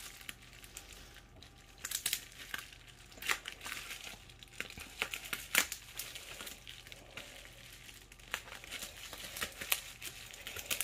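Crinkling plastic wrap around a boxed art-supply tube crackles steadily at close range, with irregular bursts of sharp rustles and crunches throughout.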